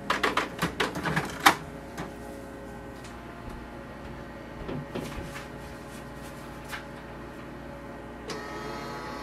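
A Canon Pixma MG3640s printer scanning a page gives a quick burst of mechanical clacks and clicks at the start, then a softer, steady whirring hum with occasional faint knocks, heard up close with no talk.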